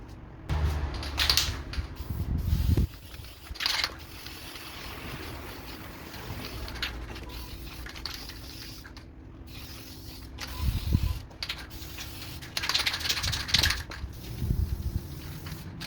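An aerosol can sprays a second coat of textured paint onto a repaired, cracked dashboard of a Ford Escort Mk2 RS2000, giving a continuous close hiss with a few louder bursts and no speech.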